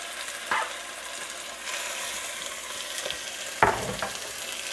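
Whole chicken pieces sizzle steadily in hot oil at the bottom of a stock pot, a continuous bright crackling hiss broken by two sharp clinks or pops.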